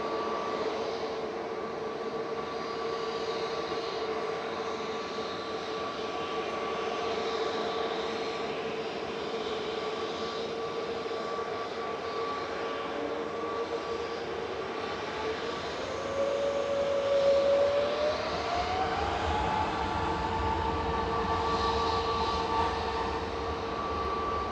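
A Virgin Atlantic Airbus A350-1000 touches down at Manchester Airport, a steady distant jet roar with a tonal whine that rises and swells briefly near the end, heard alone without talk.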